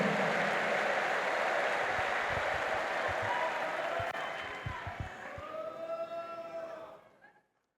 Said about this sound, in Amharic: እልልታ ጭብጨባ ለጌታ ሃሌሉያ።